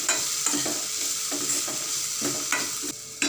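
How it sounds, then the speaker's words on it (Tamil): Chopped banana flower and onions sizzle steadily in a hot pan while a spatula stirs and scrapes in regular strokes, close and fairly loud with no voices. "வாழைப்பூவை சேர்த்து வதக்கி விட்டுக்கலாம்."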